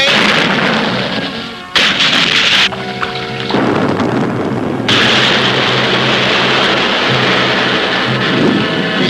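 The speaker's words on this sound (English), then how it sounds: "Depth charge is in place, sir. Good. Fire away." A depth charge dropped from an icebreaker ship explodes underwater in a 1960s Sub-Mariner cartoon, a loud rumbling blast with a sharp crash that surges, then rolls on as a sustained roaring wash.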